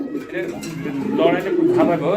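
A large pair of dun-coloured Lahori Sirazi pigeons, a male and a female, coo close and loud in continuous, rolling calls, with a voice talking alongside.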